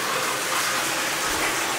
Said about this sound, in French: Voilà encore une cascade.